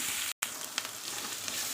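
Small shallot-type onions and large onions sautéing together in a pan for a drumstick-leaf stir-fry, a steady close sizzle broken by one brief silent gap, with no talking.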